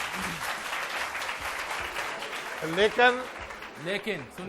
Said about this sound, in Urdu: ادائیگی پریزنٹیشن ٹھیک تھی، بہت سے بچوں کی ڈیلیوری بھی بہت ڈیلیوری بھی کے لیے تالیاں جی تینوں کے لیے